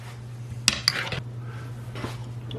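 Vegan tuna filling being mixed with mayonnaise in a bowl, a few quick utensil clinks and scrapes against the dish over a low steady background hum, fairly quiet and close.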